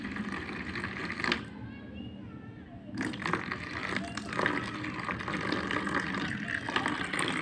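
A steady, rushing pour of water into a homemade dishwashing liquid mixture, running continuously, briefly changing tone midway, with a person talking over it.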